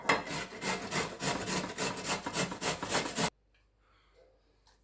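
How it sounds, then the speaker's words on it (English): Carrots rasped against the small holes of a hand grater, a dense rhythmic scraping of quick strokes for about three seconds, then stopping abruptly into near silence. "I'm gonna grate the carrots using a grater, and I'm gonna use the small holes"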